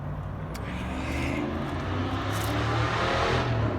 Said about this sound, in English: here he comes with this loud old car.